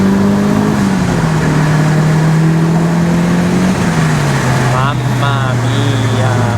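A Mitsubishi Evo VI JDM engine pulls hard through a corner, its steady droning tone sliding slowly lower, with someone talking over it near the end.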